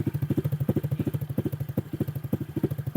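A 2023 Honda Wave 110i motorcycle with a remapped ECU and aftermarket exhaust revs steadily near 4,500 rpm, its single-cylinder engine giving a close, even, thumping putter with a regular pulse and no talk.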